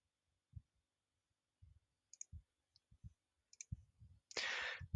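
A few sharp mouse clicks while confirming a world save reset in a game server web app, scattered over quiet low thumps, then ending in a burst of brighter noise.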